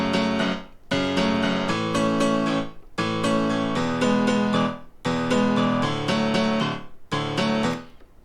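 Piano chords played through a Waves SSL EQ with the high-pass filter set at 300 Hz, several sustained chords in a row with brief gaps, clear and thin-bottomed, alone without talk.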